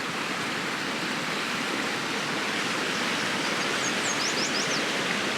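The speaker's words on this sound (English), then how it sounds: "Look at this nice little creek here." A small creek near Devils Tower, Wyoming, flows with a constant hissing babble, and faint high bird chirps break through near the end.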